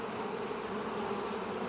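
Honey bees at a hive entrance made of 1-inch holes drilled into the boxes give a steady, dense buzz, close and continuous throughout with no talking.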